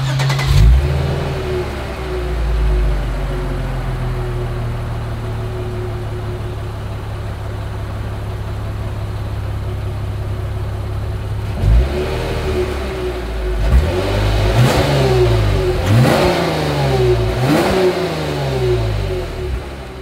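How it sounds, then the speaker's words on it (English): Exhaust of a 2023 Lexus IS 350 F Sport, a steady idle that breaks into a series of sharp revs near the end, loud and close. "As always, here is that exhaust clip."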